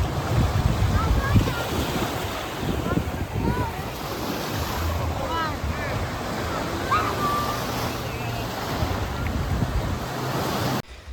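Ocean waves wash steadily onto crowded Lady Beach in Kusadasi under wind noise, with faint voices of many bathers and distant activity blending into the continuous surf.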